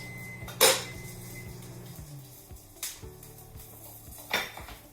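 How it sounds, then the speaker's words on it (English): Asparagus tossed in oil in a pan, with a few distinct clanks and scrapes of metal cookware spaced apart over a quiet background, close and moderately loud. "I'm just tossing the asparagus around in the oil"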